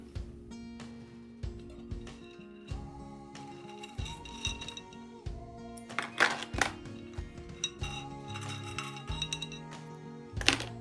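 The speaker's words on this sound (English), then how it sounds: "I'm going to take them out of the container and rinse them off." Metal nail tools clink and rattle against each other and a container as they are taken out and rinsed, with scattered light metallic taps and chimes of varying loudness close by, plus a few louder knocks.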